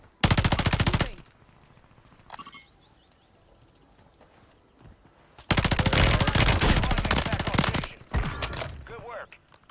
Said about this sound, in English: There's someone sniping from pier.